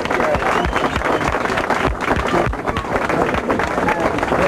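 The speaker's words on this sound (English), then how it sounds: "how about a nice round of applause for Richard Pryor?" A studio audience breaks into sustained applause for a comedian on a 1985 television broadcast, dense steady clapping with crowd noise, loud and continuous throughout.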